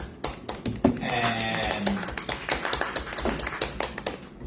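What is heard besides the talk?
audience applause for the seminar speaker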